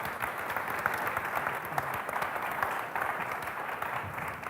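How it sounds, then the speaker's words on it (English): Steady applause from a sizable crowd, a continuous wash of clapping at even volume with no voices standing out. "This is your applause."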